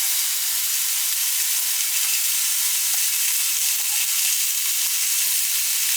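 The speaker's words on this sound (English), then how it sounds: "I'm going to put a little bit more olive oil in this pan. And we're going to saute the beef a little bit." Beef sautéing in olive oil in a pan gives a steady, dense sizzle that holds even and loud from start to finish, with no talk over it.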